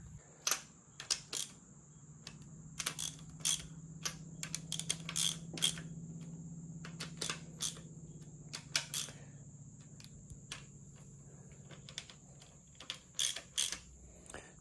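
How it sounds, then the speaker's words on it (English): A hand ratchet runs down valve cover bolts on a B20 VTEC turbo engine, giving quiet, close clicking bursts and light metallic taps in irregular clusters over a faint steady hum, with no talking. "let's run them down by hand with a ratchet"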